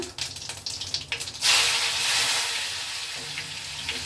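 Cumin seeds and crushed garlic hit hot oil in a pan with a sudden loud sizzle that settles into a steady, bright frying hiss, preceded by a few soft clinks and taps.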